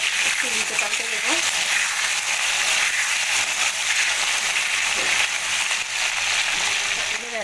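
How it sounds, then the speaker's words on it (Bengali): Pointed gourd frying in oil in a pan, a steady broad sizzle running continuously and fairly loud throughout, with occasional light stirring. "পটলের একটা পিঠ ভাজা হয়ে গেছে, আমি উল্টে দিয়েছিলাম"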